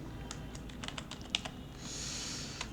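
Quick, irregular clicks of typing on a computer keyboard while composing an email newsletter, close and clear, ending in a steady soft hiss with one last keystroke.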